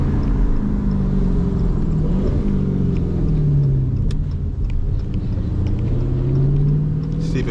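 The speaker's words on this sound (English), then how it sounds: "but I'm upshifting right now." A Dodge SRT 392 with a Borla ATAK exhaust rumbles loudly from inside the cabin, its deep exhaust drone rising and dipping through gear changes as it drives.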